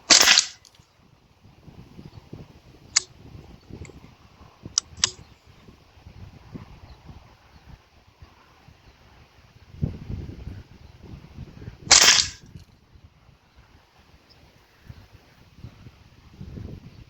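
Two or three sharp gun reports ring out outdoors at a target, spaced several seconds apart, with faint wind noise and quiet clicks filling the gaps.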